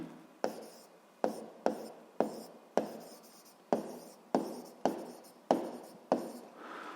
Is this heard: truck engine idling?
no